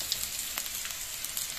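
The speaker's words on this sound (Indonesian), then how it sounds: "minyaknya udah panas, baru diceburkan bawang merah bawang putihnya" Shallots and garlic frying in hot oil in a pan, a soft continuous sizzle with light crackling pops, steady and fairly quiet.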